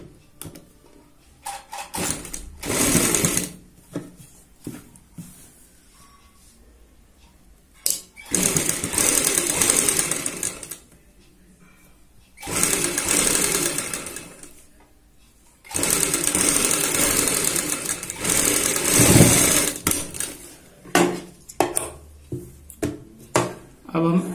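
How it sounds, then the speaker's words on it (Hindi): A sewing machine stitches a kurti neckline along buckram in bursts of loud, fast mechanical whirring, separated by quieter pauses with close talk. "यहाँ पे इस तरीके से रखते हुए बुकरम के साथ साथ सिलाई लगाते हैं"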